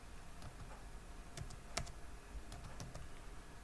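Typing on a computer keyboard while entering terminal commands: a steady patter of soft, close key clicks with a few sharper taps, heard alone over a faint background hiss.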